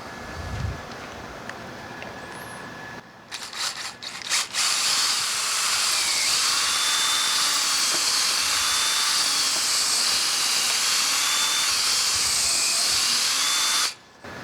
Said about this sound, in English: We are going to be drilling with a 1/8 inch drill bit, and we want to drill deeper than the length of the screw.